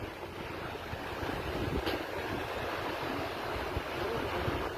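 Sanitary waste water gushing from pipes like a flowing river, a steady loud rushing wash with no voices.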